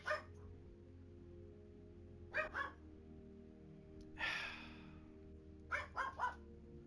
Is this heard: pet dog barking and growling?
yes